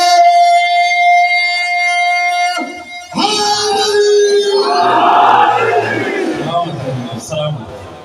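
Crowd at a majlis shouting a slogan response, starting with a sustained, loud chanted call and then breaking into a dense, raised roar of many voices that fades toward the end.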